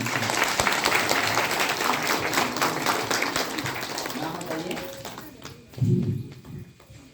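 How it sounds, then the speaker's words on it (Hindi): Applause from a room full of people, steady and loud for several seconds before fading, with a brief low thump near the end. "एक जोरदार ताली आप सब लोगों के लिए"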